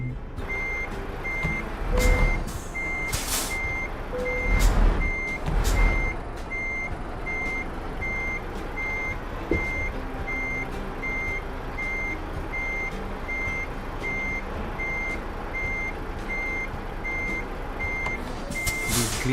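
Truck reversing alarm in a truck-driving video game: a steady series of evenly spaced beeps runs through the whole stretch over a low engine hum, with a few louder thumps and bursts near the start.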